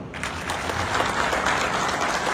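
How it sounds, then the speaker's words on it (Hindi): Sustained audience applause at a Karni Sena gathering for Kshatriya youth, dense steady clapping filling the whole moment with no voices over it. "इनके लिए एक बार ताली हो"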